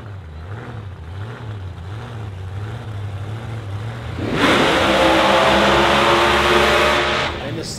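Pro Mod and fuel altered drag cars at North Star Dragway: a low idling engine burble, then a sudden loud roaring launch that holds for a few seconds before easing off.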